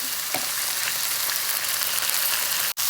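Onions sautéing with salt in a hot pan, an even close sizzle with a light stir scrape early on, ending in a brief sharp knock.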